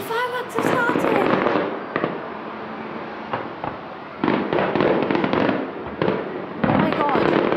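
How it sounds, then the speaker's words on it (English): Fireworks bursting below an elevated vantage point, a dense crackling wash of explosions with sharper pops and gaps, loud and continuous, with excited voices and cheering mixed in. "The fireworks have started."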